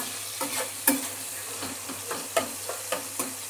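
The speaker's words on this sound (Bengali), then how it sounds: "টমেটোটা একটুখানি নাড়াচাড়া করে নিই" Tomatoes softening with salt in a frying pan sizzle steadily while a utensil stirs them, with light scraping taps at an uneven rhythm, close and moderately loud.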